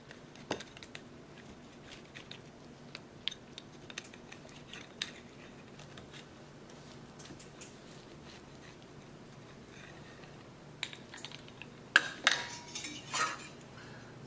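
A homemade no-yeast combination pizza sliced on a hard surface, giving faint scattered scrapes and clinks of a metal cutter, louder crunchy knocks near the end, with no talking.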